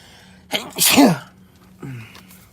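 A single close, sharp human sneeze bursts out once, followed by a short voiced sound afterward.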